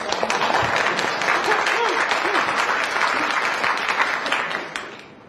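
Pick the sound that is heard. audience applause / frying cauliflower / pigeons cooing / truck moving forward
audience applause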